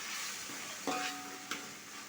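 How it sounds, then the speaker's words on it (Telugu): Ginger-garlic paste with mint and coriander sizzles steadily as it is stir-fried, with two sharp spoon scrapes against the pan, close and moderately loud, no voices. "ఇప్పుడు అల్లం వెల్లుల్లిపాయ పేస్ట్లోని పచ్చివాసన పోయేంత వరకు ఇలా కలుపుకుంటూ వేయించుకోవాలి"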